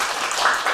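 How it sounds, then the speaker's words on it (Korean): Church congregation applauding, a brief dense burst of many hands clapping together, close and fairly loud. "박수."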